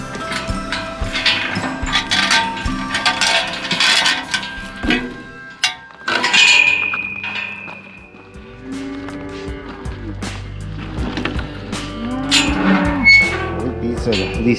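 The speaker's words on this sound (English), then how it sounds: "These are the least happy cows." Cattle on a road in the Oregon Outback give several drawn-out, low moos, mostly in the second half, against outdoor background noise while a person talks to them nearby.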